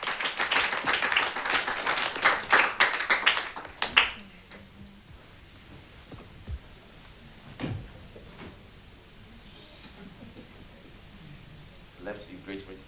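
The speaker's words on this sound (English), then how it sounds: "Please welcome him with a round of applause." A small audience at a kids' reality show event applauds the judge with a brief burst of sharp, close claps that fades out after about four seconds, followed by quiet room noise, scattered knocks and some speech.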